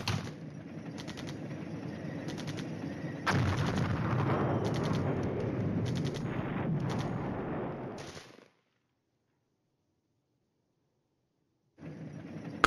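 Artillery barrage in the wargame Flashpoint Campaigns Red Storm: a dense, rumbling roll of blasts for about eight seconds that swells midway, then cuts to silence before a fresh burst starts.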